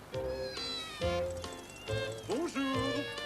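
Cartoon cat meowing repeatedly in short, close, rising and falling calls, several distinct meows in quick succession with bright harmonic tones.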